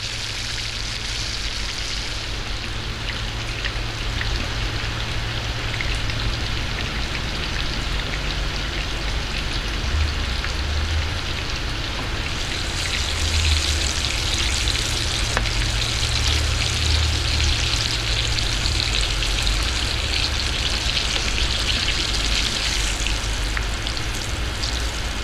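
Turkey nuggets fry in oil in a pan, a steady dense crackling sizzle that holds evenly throughout, close and continuous with no talk.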